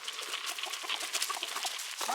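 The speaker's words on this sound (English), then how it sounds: "Oh, these chickens are so funny." Several chickens cluck and chatter continuously nearby, a busy overlapping flock of short clucks with occasional higher squawks.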